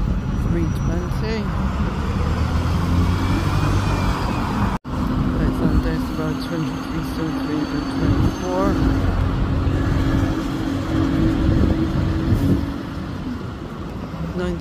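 An Alexander Dennis-bodied Scania bus pulls away on a Gloucester street, its engine a loud sustained drone over constant traffic noise, with someone talking over it.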